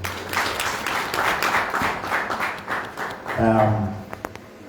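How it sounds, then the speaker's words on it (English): Audience applause at a press conference for a concert event as the BEPA president steps down from the stage, steady scattered clapping with a voice talking over it. "A round of applause as he descends the stages here."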